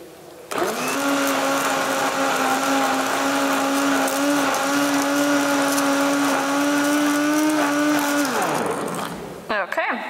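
A blender purees cooked sauce at an Italian cooking event, running as a loud, steady, close-up motor whine for about eight seconds before winding down and stopping.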